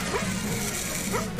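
A dog from the Toy Story movie barking, with a couple of short, fairly faint yips within a second and a half against a busy soundtrack background.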